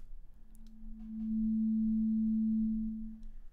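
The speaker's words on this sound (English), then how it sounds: "this is the original sine wave that we all know and love" A pure sine wave test tone, generated in Max/MSP and played through speakers, holds one steady low pitch for about two seconds, fading in and out, with faint room noise around it.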